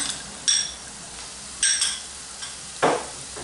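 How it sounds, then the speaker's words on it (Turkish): Minced meat frying in a pan with sautéed onions for tomato eggplant musakka, heard as a faint steady sizzle broken by several short scraping stirs of a utensil against the pan. "Soğanımız sotelendi. Şimdi kıymamızı da ilave ediyoruz."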